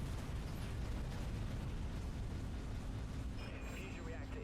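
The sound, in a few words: weapon fire and explosions from video game Dreadnought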